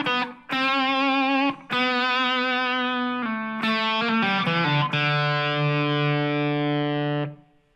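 Electric guitar with heavy distortion plays the line: a few sustained, ringing notes with short gaps between, then a long held note fading out, played alone.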